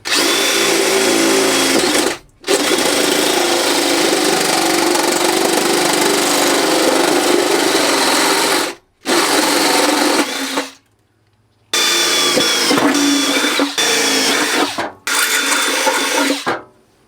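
A power drill bores the first hole through the metal body of a camper van under conversion, a loud continuous high-pitched whine held for several seconds at a time with brief pauses between bursts, close up and with no talking.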